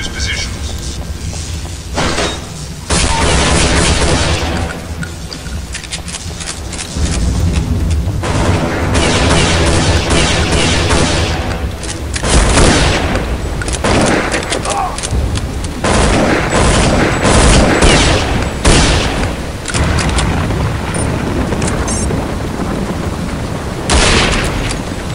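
Rapid machine-gun bursts from enemy emplacements in Counter-Strike: Condition Zero Deleted Scenes hammer away loudly and almost continuously, mixed with explosive booms and impacts, while a voice speaks over the barrage.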